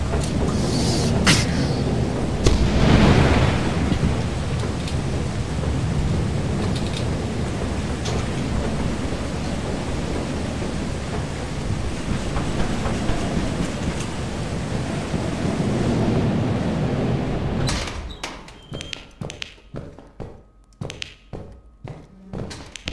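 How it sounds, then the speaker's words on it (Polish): A thunderstorm in Lethal Company: a continuous broad roar of wind and rain with a heavy low rumble and a thump near the start, holding steady for most of the stretch before cutting off into sparse ticks and clicks. "Mamy burzę, widzę, więc trzeba uważać."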